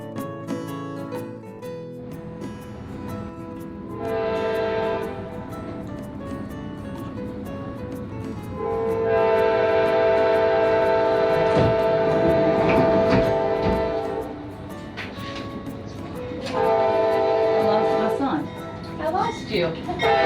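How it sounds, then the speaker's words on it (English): Amtrak's southbound Crescent train passes near the Alabama–Mississippi state line, sounding several sustained horn blasts over a low, steady rail rumble, the loudest stretch in the middle. "we have to stop to allow the southbound Crescent train pass us"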